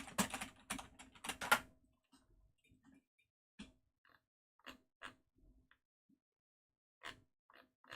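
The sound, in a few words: loud computer keyboard typing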